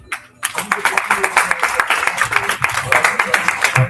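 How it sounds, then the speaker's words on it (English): A crowd breaks into steady applause, many hands clapping in a dense, continuous patter that holds fairly loud throughout. "Round of applause."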